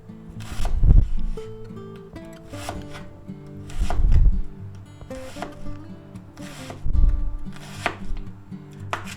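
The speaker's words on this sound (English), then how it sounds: "Now I'll take our half of an onion here and we'll cut that up." A knife chopping a small onion half on a cutting board, with three bursts of soft dull cuts spaced a few seconds apart, close and unaccompanied by speech.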